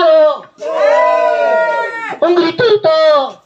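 Party audience at an adult birthday show letting out short, high little screams on cue, several loud bursts with brief gaps between them.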